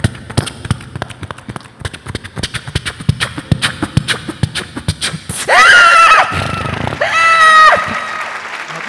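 A voice imitates a horse: a run of quick, rhythmic clopping clicks for galloping, then two loud, drawn-out whinnying neighs, close and alone.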